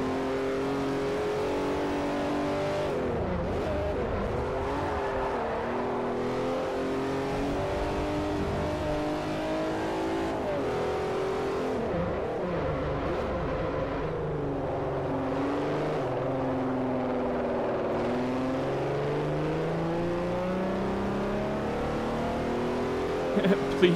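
Race car engines from Forza Motorsport 4 drone and rev continuously while drifting around corners, pitch sweeping up and down with tire-scrubbing texture, loud and steady throughout, with a voice talking over the engines.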